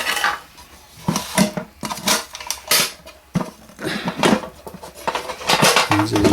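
A metal French military mess tin is handled, giving a run of close, bright metallic clinks and clatters in irregular bursts with no talk.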